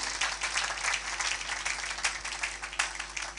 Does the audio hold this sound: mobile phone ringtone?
no